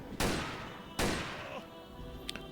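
Two heavy gunshot blasts in the video game Menace from the Deep, each a sharp loud crack with a decaying boom, about a second apart, followed by a faint electronic blip.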